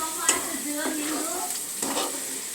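A rice mixture sizzles and fries in a pan while a spoon stirs it, with steady close frying hiss and a few scraping strokes over the short span.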